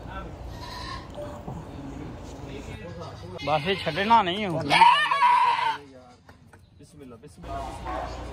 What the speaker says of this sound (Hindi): यहाँ पे भी दुम्बे और बकरे खड़े हैं।